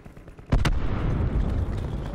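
Cluster grenade blasts in the video game Black Ops 4: a sharp double burst, then a continuous rumbling roar and a final crack near the end, all loud and close.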